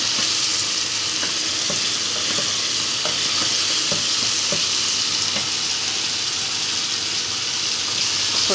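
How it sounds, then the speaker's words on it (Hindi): Bottle gourd stew with whole spices sizzles loudly in a pan, a dense continuous frying hiss broken by repeated scraping stirs, close up and with nobody speaking. "थोड़ा सा इसको फ्राई कर लो, अच्छी तरह फ्राई हो जाएगी"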